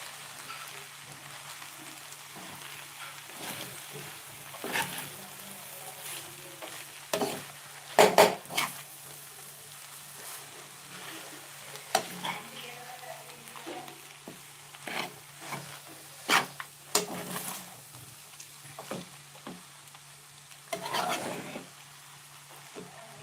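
A spoon scrapes and taps against a pan while avalakki (poha) upittu is stirred, soft intermittent clinks and scrapes over a faint sizzle, close and fairly quiet with no talking.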